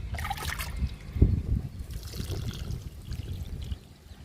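Liquid fertilizer pours onto a potted adenium plant, a close trickling splash that swells briefly and then dribbles on more softly.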